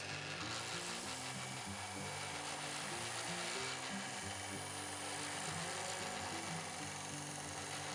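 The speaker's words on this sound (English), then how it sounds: "you hold the blade at a slight angle to the sanding platen and take long sanding strokes down the blade" Wooden knife blade drawn in long strokes against a sanding platen, a continuous rough scraping hiss with steady low music running underneath.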